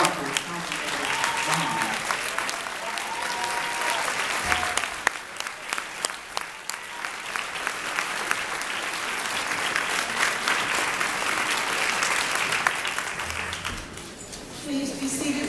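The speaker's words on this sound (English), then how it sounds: "I ask you to please stand on your feet and give a round of applause for Her Excellency Paulette Zonicle." A standing audience gives sustained, dense applause for Consul General Paulette Zonicle at a CME conference, steady and loud throughout with a brief dip near the end.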